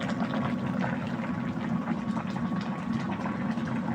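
A pot of salmon-head paksiw bubbles at a steady rolling boil close by, with a continuous dense gurgle and no talking.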